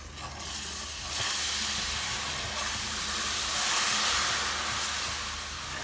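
Syrup poured onto hot roasted semolina halva in a pan, a loud, steady hissing sizzle that swells and holds for several seconds, close and with no talking.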